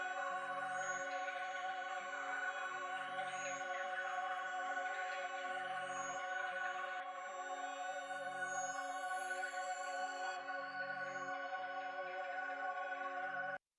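Sustained synth pad with bright shimmering upper harmonics, playing alone and steadily, running through an SSL 4K G channel strip plugin before it has been warmed up.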